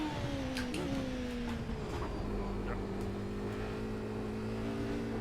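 A steady engine drone with rising and falling pitch, like a racing car revving in a game, continuous and fairly loud with a faint voice in the background.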